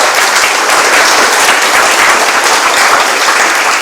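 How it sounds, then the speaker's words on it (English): An audience at the Gift From The Sea event breaks into loud, dense applause for a performer named Anne, with steady clapping that holds for the whole stretch with no voices over it. "a well-deserved round of applause for Anne"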